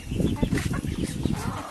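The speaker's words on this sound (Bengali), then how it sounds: "এখানে আমি গত দুই সপ্তাহ আগে এই ব্রয়লার মুরগিগুলো আনছিলাম" Broiler chickens about fifteen days old, kept in a cage on a rooftop farm, cluck and murmur in a dense, steady chorus that fills the short stretch, close by and moderately loud.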